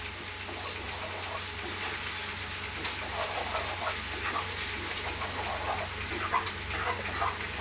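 Egg podimas gets stirred in a pan: a continuous hiss of cooking with faint scraping of the spatula, steady and close, under a low background hum and without speech.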